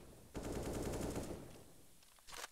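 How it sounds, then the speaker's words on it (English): A burst of automatic rifle fire through smoke in a CS:GO match on Inferno, faint and distant, with a sustained rattle followed by a short second burst. "Couple of bullets thrown through the smoke by HellRaisers"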